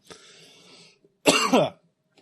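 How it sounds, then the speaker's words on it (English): One short, loud cough close by, following a faint breathy rasp, then silence. "one last cough"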